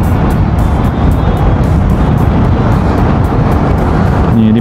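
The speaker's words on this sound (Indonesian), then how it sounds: "Nih, dibawa kecepatan santai gitu tuh enak banget motornya, stabil, terasa ringan" A Vespa Primavera 150 scooter is ridden at a relaxed speed, its loud, steady engine hum and rushing wind noise continuous and close, with no talk.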